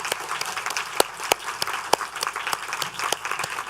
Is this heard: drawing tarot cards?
no